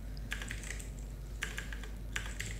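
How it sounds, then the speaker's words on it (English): Short clusters of keystrokes on a computer keyboard, three quick bursts of light clicking close by against a low steady hum, no talking. "Okay, for that I can type"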